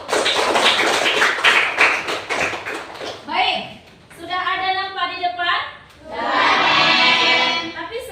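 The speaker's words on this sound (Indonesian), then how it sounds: "Oke, beri tepuk tangan." A classroom of children claps together in a dense burst of applause for about three seconds, followed by a voice speaking and then an adult talking.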